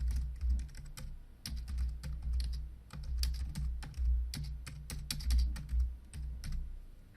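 Rapid computer keyboard typing, close and clear, with uneven bursts of key clicks and thumps running continuously for several seconds without any voices.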